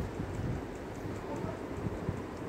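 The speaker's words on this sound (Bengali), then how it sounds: "পেঁয়াজটাকে জাস্ট হালকা সতে করে নেবো" Onion and green chillies sauté lightly in hot oil for chowmein, giving a soft, continuous sizzle with faint crackles and spatters at low volume throughout.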